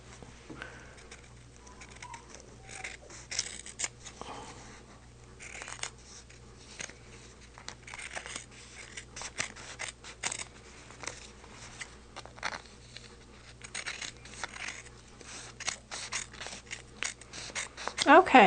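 Scissors trim a quilt block's fabric with a run of light, closely spaced snips and rustles, growing busier toward the end over a low steady background hum.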